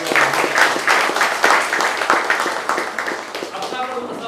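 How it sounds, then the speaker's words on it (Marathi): An audience at a Dashavtar drama performance in Surla, Goa claps in sustained, dense applause that gradually tapers off, with a voice speaking faintly over it. "सर्वांनी एकदा टाळ्या वाजवूया"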